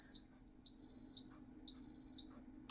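Two long electronic beeps from a kitchen appliance, high-pitched and steady, each lasting about half a second, with a short gap between them in a quiet room.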